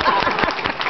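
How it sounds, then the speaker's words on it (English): An audience claps in a dense, close burst of many hands that lasts under a second. "Clap."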